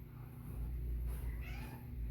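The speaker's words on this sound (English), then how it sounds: "Oh, there's my cat." A house cat meows indoors, a soft mid-pitched call rising briefly around the middle of the stretch over a low steady room hum, fairly faint and alone with no talking.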